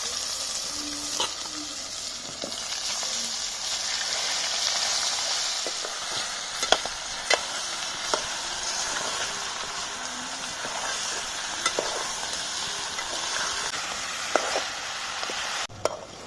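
Farm chicken curry with onions and cloves fries in oil: a steady, close, dense sizzle that holds the whole time, dotted with occasional sharp clicks from stirring.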